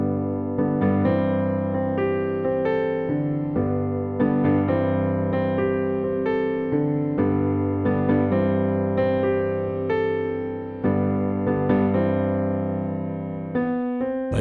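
Piano plays the intro of a song: sustained, gently rhythmic chords with a moving low bass line, evenly paced and close, with no voices.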